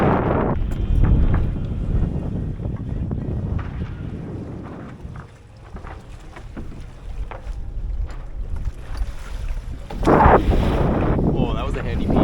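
Strong wind gusting across the microphone while sailing through squalls in the Doldrums, a steady broadband rush with a louder surge near the end, mixed with boat and water noise.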